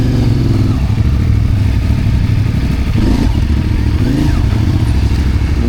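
Trail motorcycle ridden through soft woodland ground with branches and tight turns, its engine droning loud and close with uneven throttle surges and some clatter across the whole stretch.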